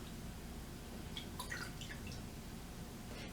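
A makeup brush is swished and rinsed in a small container of water away from the sink, giving faint, brief drips and splashes over a steady low background hum, with no talking.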